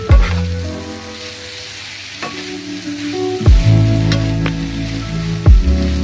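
Paneer bhurji mixture with onion and tomato stirred in a pan over a low gas flame, steady close sizzling with a few sharp scraping clinks of the spoon against the pan.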